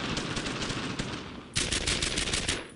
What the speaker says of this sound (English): Firing! Covering fire!